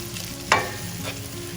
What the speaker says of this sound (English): Now give this a nice mix.